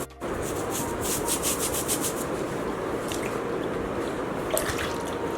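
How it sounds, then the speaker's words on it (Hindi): A brush scrubbing bare feet during an at-home pedicure, with a steady wet rubbing and swishing texture that continues throughout, close and fairly loud, with no talking. "अब मैं इस ब्रश के साथ सबसे पहले क्लीन कर लूँगी नीचे"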